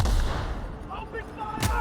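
Gunfire in the video game The Outer Worlds: a muffled, rumbling exchange builds to one sharp, close shot near the end.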